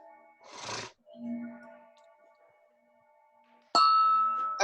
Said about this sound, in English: I'll hit the bell anyway.